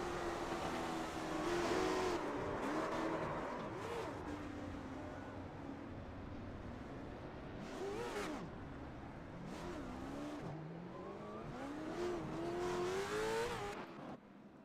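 An onboard race car engine from the race leader's car at Stafford Motor Speedway drones steadily, its pitch rising and falling through repeated revs and shifts as it laps, loud and continuous throughout.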